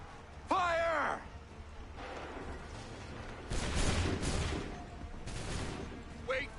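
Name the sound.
musket volley fired on command in Assassin's Creed III video game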